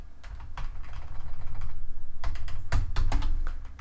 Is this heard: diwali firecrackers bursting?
no